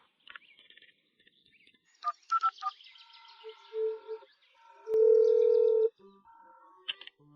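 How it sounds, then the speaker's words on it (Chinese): A telephone being dialed for a late-night call gives a sequence of short electronic keypad tones and beeps, then a longer steady tone, all fairly quiet against a hushed room. "给田娃打个电话。"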